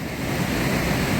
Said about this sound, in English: Got the water rushing down there.